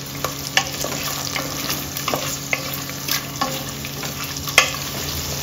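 Chopped onions and green chillies fry in a pan with a continuous moderate sizzle. Spatula scrapes and taps break in at irregular intervals, and no one speaks.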